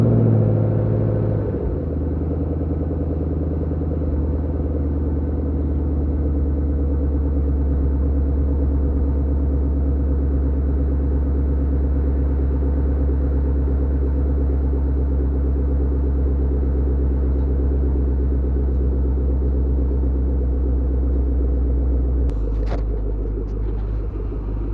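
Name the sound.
cold start of a 6-speed Chevrolet Camaro engine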